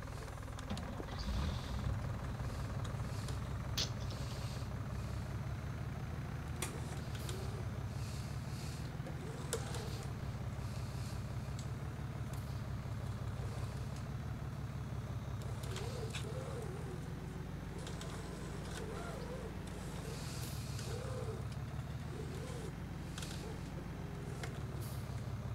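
A Fendt tractor engine in Farming Simulator 19 drones steadily at low pitch with a slight rise and fall in revs, joined by occasional clicks, while people talk faintly over it.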